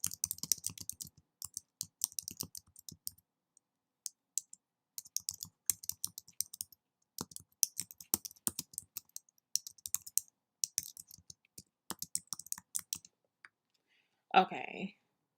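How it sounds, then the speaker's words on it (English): Quick bursts of clicking keystrokes on a computer keyboard come in short irregular runs with brief pauses, close and fairly quiet, followed by a short spoken remark at the end. "I'm just going to type them real quick."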